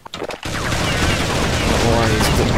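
Counter-Strike 1.6 gunfire, a dense loud burst of rapid automatic shots that continues for a couple of seconds after a few brief opening hits, with a voice faintly present beneath.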